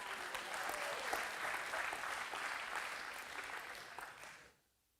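Steady applause from a church congregation fills the room for about four and a half seconds, dense and fairly loud, then cuts off abruptly into near silence.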